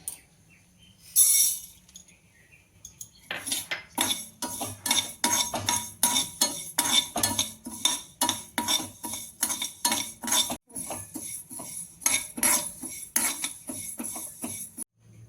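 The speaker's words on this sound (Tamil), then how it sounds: "பாசிப்பருப்பை வறுத்துடலாம்" Moong dal roasts dry in a pan for a Mappillai Samba aval sweet pongal while a metal spoon stirs it in quick, rhythmic clinking and scraping strokes. The sound is close and fairly quiet, with a pause before the steady stirring begins.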